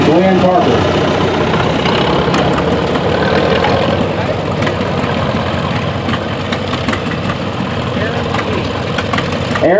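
A 1957 Farmall L tractor engine idles steadily and loudly outdoors at a plow day, with a knocking, low rumble throughout and faint voices mixed in.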